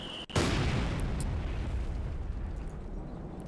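A Brummbär tank shells an anti-tank gun in Company of Heroes 2, a single loud close explosion after a brief hush, then a long rolling rumble that slowly decays.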